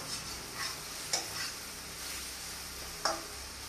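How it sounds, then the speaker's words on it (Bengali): Faint, steady frying of Kashmiri chili powder and ingredients in oil in a kadai for egg chicken fried rice, a soft continuous sizzle with a couple of brief sharp clinks of a spoon against the pan. "এখন তেলের মধ্যে একটু ভালো করে ভেজে নেব"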